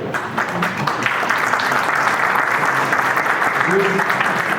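Audience applause during a corporate presentation on MGI and Konica Minolta printing, a dense, even wash of clapping from a crowd that holds steady throughout, with faint voices mixed in.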